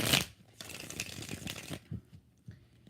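A deck of tarot cards is shuffled close up: a sharp riffle burst, then a longer rapid flutter of cards, then a few softer taps and slides as the deck settles.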